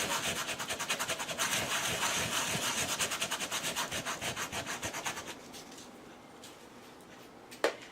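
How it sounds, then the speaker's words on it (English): Sandpaper rubs rhythmically over a vinyl record to remove leftover label, rapid close scratchy strokes for about five seconds, then quieter handling and a sharp tap at the end. "then I take this sandpaper and sand off the rest of it"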